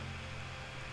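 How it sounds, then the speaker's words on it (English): A steady low hum with a broad airy whir, like a computer fan running continuously at moderate volume, with no talking. "Sorry about the fan noise."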